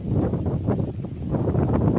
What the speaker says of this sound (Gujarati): પવન ઉડે છે બહુ એટલે અવાજ નહીં આવતો